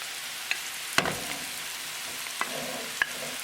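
Pieces of taro root (arbi) tipped into a pan of sizzling spice tadka, giving a steady frying hiss with a few sharp clinks and knocks of a spoon stirring against the pan.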